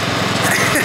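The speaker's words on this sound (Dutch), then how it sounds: "nu zit hij op de grasmaaier" Ride-on lawn mower at a car trade show, its small engine running with a steady buzzing drone, loud and close over a brief moment, with crowd noise and voices around it.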